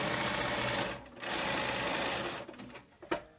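A sewing machine runs steadily while stitching the sides of a frame bag through several fabric layers, pausing briefly near the middle and then stopping with a few short clicks and handling noises.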